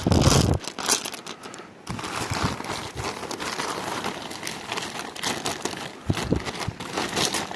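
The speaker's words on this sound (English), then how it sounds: "Got these good plastic bags from Portland, Oregon." Plastic Safeway grocery bags crinkle and rustle up close, in a continuous crumpling with a few sharper crackles and a brief quiet moment early on.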